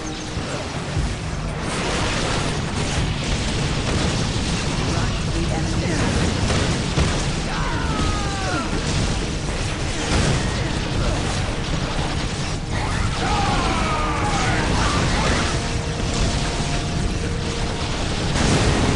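Grenade blasts from the Warhammer 40,000 strategy game Dawn of War, a dense run of booming bursts and clanking mechanical battle noise, with a voice speaking over the steady, loud game mix.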